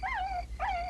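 An old dog in a children's TV story whimpers in two high, wavering whines broken by a short gap, close and clear with no talking.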